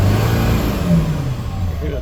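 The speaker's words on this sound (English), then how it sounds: "You hear the turbo whining" Close, loud engine of a 2003 Ford F550 with a 7.3 diesel holds high revs and then eases off, with the turbo whining on top.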